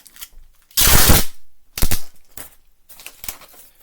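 Tape gun pulling and applying packing tape to a parcel, with a loud rasping screech and then several shorter tearing bursts, close up with no talk.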